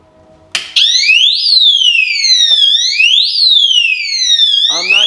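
A refrigerator power-loss alarm shrieks loudly right after the power is restored, a piercing electronic siren sweeping up and down in repeated wailing cycles, very close and alone.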